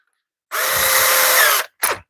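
A power drill with a bit fitted whines loudly and steadily for about a second, then gives one brief second burst, up close with no talking.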